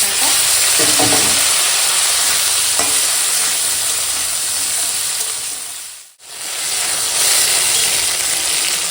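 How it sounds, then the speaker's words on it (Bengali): Cut potatoes frying in oil tempered with bay leaf and green chilies, a loud, steady sizzle with a few stirring knocks early on and a brief dip in the hiss partway through, close-miked, no speech. "ফোড়নটা এখন ভাজা হয়ে গেছে এখন দিয়ে দেবো এই যে কেটে রাখা আলু"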